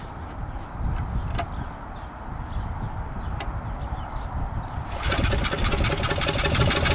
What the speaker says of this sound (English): first attempt at starting the motor from cold on his back